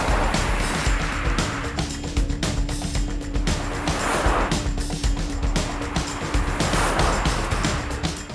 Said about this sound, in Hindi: ड्राइव कर रहे हैं सबसे पहले हम सफारी